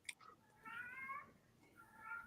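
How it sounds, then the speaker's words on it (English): Faint meowing of cats, a few soft drawn-out mews spread across a couple of seconds, distant and quiet over a low background hum. "I hear kitty cats."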